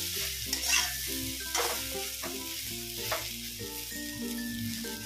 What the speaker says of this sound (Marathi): कलर चेंज होईपर्यंत आपण याला फ्राय करायचं आहे